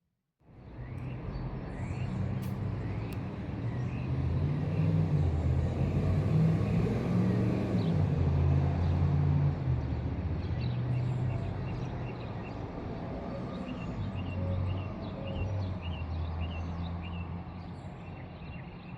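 Cars idle and move on a street near St. Joseph Church in Kings Park, NY, giving a steady low engine rumble across the whole stretch, with faint birdsong above it.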